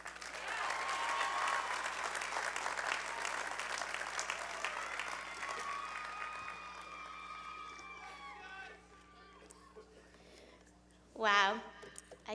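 An audience at a college commencement ceremony applauds to welcome a speaker, sustained and dense clapping that fades out gradually. A voice follows briefly at the end.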